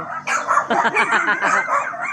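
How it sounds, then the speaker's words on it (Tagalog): Several dogs bark and yip excitedly close by, a rapid overlapping flurry of barks lasting a couple of seconds. "Yung mga aso."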